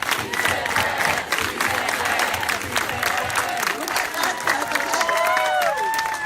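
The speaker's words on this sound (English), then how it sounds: "Please join me in a round of applause for the pleasure of Senora Huerta's company this evening." A crowd at an evening Q&A with activist Dolores Huerta in Arizona breaks into sustained, dense applause mixed with cheers and whistles, loud and continuous throughout, with scattered voices shouting over the clapping.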